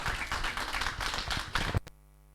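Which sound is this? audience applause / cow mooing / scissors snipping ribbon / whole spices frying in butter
audience applause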